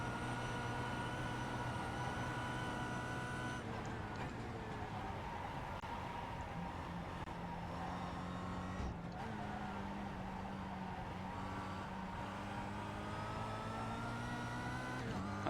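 Kia Optima race car engine howling steadily at high revs around Suzuka in the iRacing game, with a continuous loud tone that dips at two gear shifts, while a voice talks quietly underneath.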